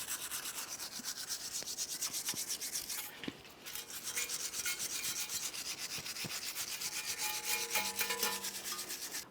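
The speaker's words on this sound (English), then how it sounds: "For this, you can either use a wire brush or even some sandpaper." Steady scratchy rubbing of a wire brush or sandpaper cleaning the front brake hub on a 2001-2005 Ford Explorer Sport Trac, continuous and fairly quiet, with a brief pause partway through and no speech.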